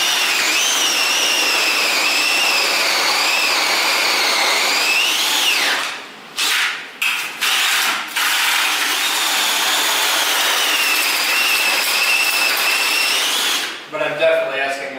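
A power drill used as a concrete mixer whines steadily at high speed, cuts out briefly in a few stuttering bursts, then runs on continuously before stopping.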